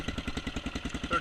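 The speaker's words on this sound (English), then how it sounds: "Definitely a little more beefier sounding than a stock exhaust on a KLR650." A 2008 Kawasaki KLR650 with an aftermarket CZR exhaust idles close by, giving a steady, deep, lumpy thump with a regular pulse throughout.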